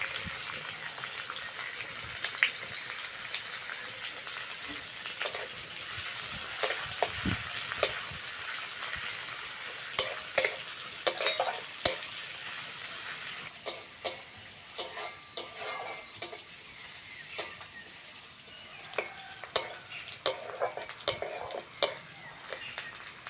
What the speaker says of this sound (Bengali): প্রথমে কড়ার মধ্যে তেল দিয়ে দেবো। তেলের মধ্যে দিয়ে দেবো কুচনো পেঁয়াজ।